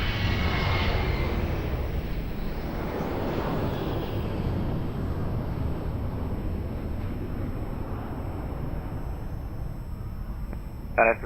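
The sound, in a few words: airplane taking off at Lisbon Airport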